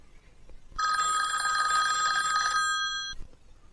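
Ringing bell of a landline telephone, used as a sound effect in a spoken story reading, a single sustained metallic ring lasting about two seconds, clear and close, with no talking over it.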